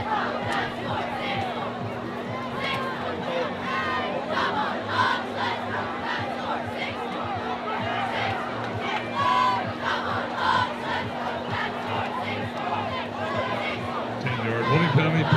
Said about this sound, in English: RUHS crowd let them hear it with the boos.